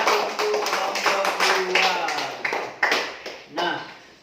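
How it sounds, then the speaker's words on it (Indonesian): A classroom of students claps for a student group, with scattered, uneven taps and claps close by while voices talk over them. "Beri tepuk tangan untuk kelompok"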